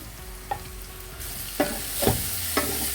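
Tomatoes with turmeric cook in a pan for a flu and cough soup, a quiet sizzle broken by a few distinct stirring scrapes and clinks, with the hiss growing brighter partway through.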